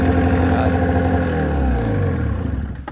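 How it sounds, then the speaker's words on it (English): A 1998 Arctic Cat ZL500 snowmobile's two-stroke engine idles close by, a steady, loud, buzzy drone that eases slightly in pitch before dropping off at the end. "RPM does go down when it's idling."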